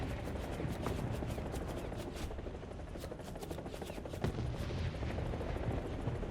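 Gunfire in a helicopter combat video game rattles in dense, continuous bursts over a steady loud rotor and engine drone, with an occasional heavier thump.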